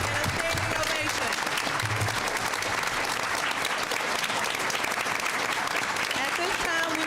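A large crowd applauds and gives a standing ovation for Henry County Public Schools Teachers of the Year recipients at a school board meeting; dense, steady clapping fills the room for the full stretch, loud and continuous, with faint voices mixed in.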